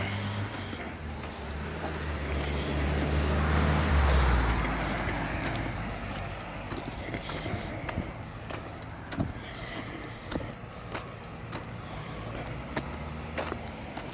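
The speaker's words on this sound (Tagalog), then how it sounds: "May mga sasakyan na padaan" Road traffic along a shaded walkway by a gate, with a heavy vehicle rumbling loudly close by in the first few seconds, then fading into steady, softer passing traffic and footsteps for the rest of the stretch.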